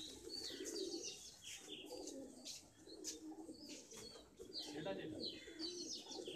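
Sobuj Madrasi pigeons coo softly and repeatedly, with occasional chirps and a brief flutter of wings, while people talk faintly in the background.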